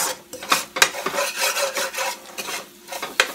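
A spoon stirs and scrapes through a pot of curry with chicken, pork, potatoes and carrots, irregular close rasping strokes with soft sizzling between them.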